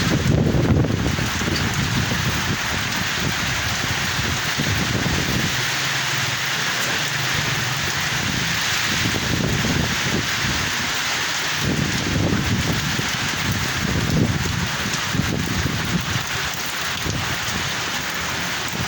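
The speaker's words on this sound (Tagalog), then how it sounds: "Sobrang lakas naman ng hangin kong yan." Strong typhoon wind and driving rain roar without pause in Pampanga, gusts surging and easing throughout in a loud, dense wash.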